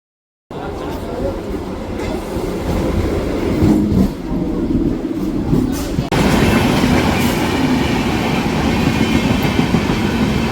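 A passenger train runs steadily on rails at a station-bound rail journey, a continuous loud rumble with rhythmic clatter throughout, shifting in character partway through as the carriage moves on.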